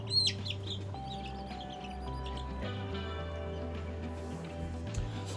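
Chickens cluck and chirp inside a wooden coop, with a steady low hum underneath the birds' calls throughout.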